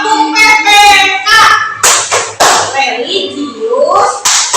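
Schoolchildren clapping the Tepuk PPK classroom rhythm, sharp close claps in short patterned groups, mixed with voices chanting and speaking along with the beat.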